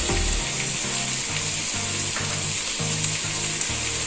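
Lady finger curry fries with a continuous sizzle in a pan while salt is stirred in, with soft rhythmic stirring strokes beneath the steady hiss.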